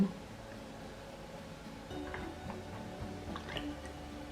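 Hot homemade elderberry syrup trickles and drips quietly into a black bottle, with soft liquid gurgles and a few small clinks as it fills toward the neck, faint and close.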